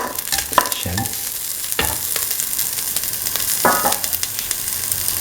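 Garlic, ginger, three red chilies and shallots fry in a pan with fennel seeds, a steady close sizzle broken by several sharp stirring scrapes and clanks.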